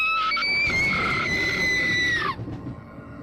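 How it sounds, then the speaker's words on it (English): A girl's piercing shriek from the horror visual novel Umineko, one sustained high scream lasting about two seconds that breaks off abruptly, leaving a faint noisy tail. "Jessica's piercing shriek rang out."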